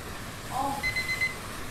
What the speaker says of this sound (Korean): 알람.